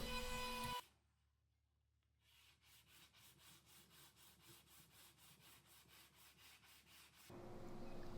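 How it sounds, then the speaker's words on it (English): Rhythmic strokes of a 12-inch radius sanding jig rubbed along a guitar fretboard, about twenty steady back-and-forth passes close up, framed by louder noise at the start and end. "The 12-inch radius jig just does the job so effortlessly"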